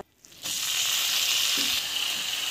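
Food sizzling steadily in a hot pan after a brief quiet start, a bright continuous fry close by with a faint stir, no voices.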